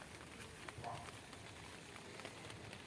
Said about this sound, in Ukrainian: тому що йде дощ. Я сховалася в теплиці.